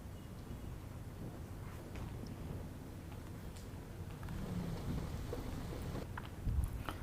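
Heavy monsoon rain pouring in Thane, Mumbai, in flooded streets, a dense steady hiss of rainfall with low rumbling undertones, swelling slightly toward the end, fairly faint overall and with no voices.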